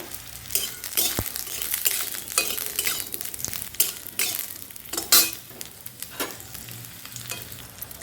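Pointed gourd pieces sizzle in hot oil in a pan, the soft frying hiss broken by frequent scrapes and clinks of a utensil stirring and turning them.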